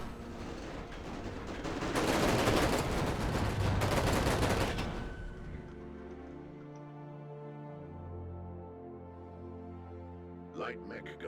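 Light mech's gun firing in the space strategy game ERA ONE, a dense rapid burst of shots lasting a few seconds, then fading under game music and sound effects.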